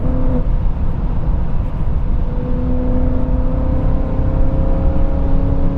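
A BMW M3 cruising at about 180 km/h, heard from inside the cabin as a steady loud drone of road and wind noise with a low engine hum and a faint whine, no talking.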